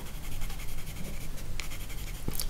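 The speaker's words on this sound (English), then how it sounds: "next I'm going to add some of those darker areas by layering the green pencil over the red." A green watercolor pencil layered over red on paper in slow strokes, a soft close scratchy scribbling with repeated short passes and a few faint taps, quiet and without speech.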